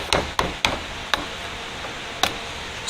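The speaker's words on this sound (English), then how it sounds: "how I do it is with a flathead screwdriver and just a hammer. Find the clip, you tap it" A hammer taps a flathead screwdriver to drive out a U-joint retaining clip on a 3rd-generation Toyota 4Runner: five sharp metallic clicks, three close together, then two spaced apart, with no voices.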